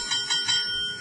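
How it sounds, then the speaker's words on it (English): A small bright bell rings three quick times at a studio talk show, clear and close, its metallic tone lingering and fading after the last strike, with no voices over it. "Ring the bell for that."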